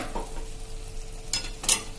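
Ridge gourd frying in oil in a pan with a soft, steady sizzle, broken by two brief louder bursts of stirring near the end.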